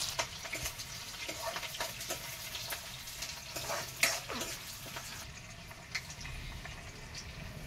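Chopped onions sizzle in hot oil with dried red chilies and bay leaves for a chicken curry. Soft crackling continues throughout, with occasional scrapes and clinks of a spoon stirring the pan.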